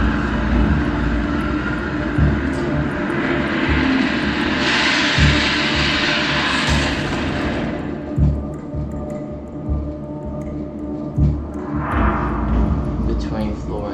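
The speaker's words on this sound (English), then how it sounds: "that's when the second plane went into Tower 2" Fixed-wing airliner engine roar during the 9/11 attack on Tower 2 of the World Trade Center, a loud steady drone with swelling passes and thumps, a voice speaking over it.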